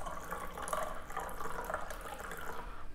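A small amount of hot water is poured while making filter coffee, a steady close liquid trickle and splash running without a break.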